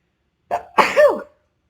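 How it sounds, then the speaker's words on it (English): A single close sneeze: a quick intake breath followed by a loud, sharp burst, then silence. "I need to sneeze"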